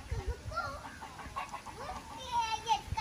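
A rooster clucks and crows in short, wavering calls close by in Zanzibar, with low thumps and faint background noise.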